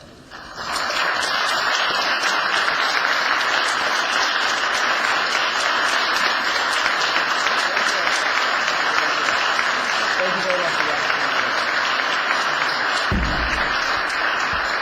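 Sustained, loud applause fills the Illinois Senate chamber after a speech, an even roar of many hands holding steady for about thirteen seconds before a dull thump.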